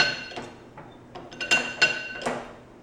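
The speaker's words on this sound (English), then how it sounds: "it has this ratcheting setup that you can use" Ratcheting setup on a Weaver 28 ton shop press, a handful of sharp metallic clicks and clinks at uneven intervals, close and fairly loud, with no talking.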